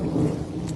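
Thunder rumbling through a hailstorm in southeast Queensland, a low, steady roll of storm noise with rain hiss, sustained and fairly close across the short moment, no voices.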